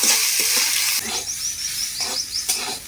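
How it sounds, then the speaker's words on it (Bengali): Washed Gobindobhog rice fries with spices in oil in a pan, a steady close sizzle broken by scraping stirs and light clinks of a spoon against the pan, with no talking. "চালটা দিয়ে মশলার সঙ্গে একটু ভাজা ভাজা করে নেব"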